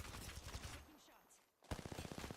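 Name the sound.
gunfire in the video game Fallout 76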